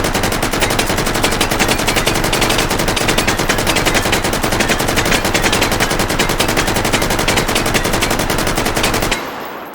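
A Swedish AK5C carbine with a 100-round magazine fires on full auto in the video game Hot Dogs, Horseshoes and Hand Grenades. The loud, rapid burst runs unbroken for about nine seconds, then cuts off abruptly.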